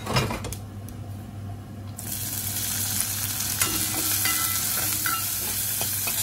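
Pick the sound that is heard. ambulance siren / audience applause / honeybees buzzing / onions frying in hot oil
onions frying in hot oil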